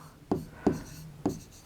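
Pen strokes on paper in a children's Hindi lesson, a word being written in three distinct scratchy bursts, close and clear against a quiet room.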